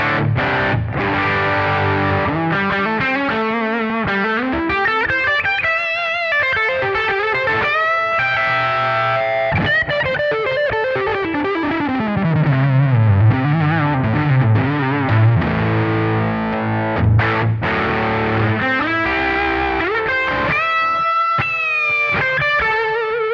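High-gain electric guitar on the bridge pickup through a Kemper liquid amp profile, heavily distorted, playing continuous melodic riffs and runs with sustained notes, loud and close, no talking.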